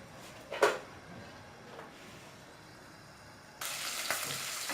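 Green chillies frying in a pan, with a soft steady sizzle that swells louder and brighter near the end, plus a brief clatter early on.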